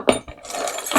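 A set of keys jangles and clinks as a magnetic pick-up tool lifts them, a few close metallic rattles over about a second.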